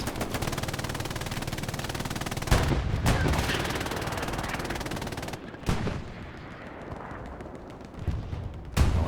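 Gunfire in the World War II shooter Hell Let Loose on Omaha Beach, with dense rapid machine-gun bursts and heavier explosive booms, some sharp cutoffs between stretches.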